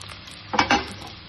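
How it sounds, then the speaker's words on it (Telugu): Dried red chillies fry in a little oil in a pan, a short burst of crackling sizzle and stirring that rises in the middle, then settles back to a faint background hiss. "ఫస్ట్ ఎండుమిర్చి వేయించుకుందాం ఆయిల్లో"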